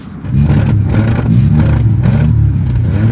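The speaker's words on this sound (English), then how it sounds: "You doing a burnout over there?" A 1978 Chevy Monza Spyder engine roars steadily at high revs during a burnout, with rough, grinding noise close by from tires spinning in place, sustained for a few seconds.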